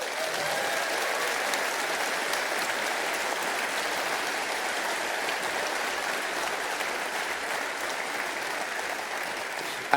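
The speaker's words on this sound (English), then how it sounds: "Please give that amazing group of people a good applause." A large keynote audience at the EVE Fanfest 2025 gaming convention claps in a dense, sustained roar of applause that holds steady and loud for the full ten seconds.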